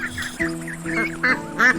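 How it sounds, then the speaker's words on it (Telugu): Ducks quacking nearby, a rapid series of nasal honking calls in quick succession. "ఆ చెరువులో కొన్ని బాతులు కూడా ఉండేవి"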